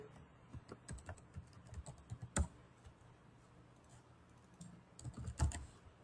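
Computer keyboard typing while writing a file, quiet close clicks in irregular bursts separated by short pauses.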